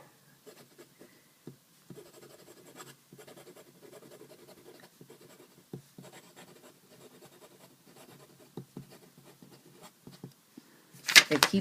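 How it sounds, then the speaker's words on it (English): An Ohto Poche fountain pen nib scratching quickly across paper, close and faint, in short irregular strokes with small pauses, then a louder rustle at the end. "to do some quick writing"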